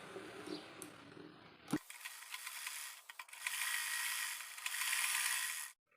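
A sewing machine stitches the button placket on a baby dress: a soft mechanical whir, then a sharp click followed by a brighter, steady hum with a brief pause before it stops abruptly, with no talking.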